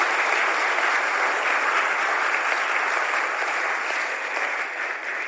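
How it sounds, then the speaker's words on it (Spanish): A church congregation breaks into sustained, even applause, a dense wash of many hands clapping that carries steadily for several seconds and eases slightly at the end. "Dale un aplauso al Señor."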